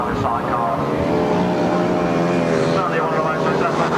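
Grasstrack sidecar racing outfits at a 1994 meeting roar past, loud buzzing engine tones rising and falling continuously under a commentator speaking over the noise.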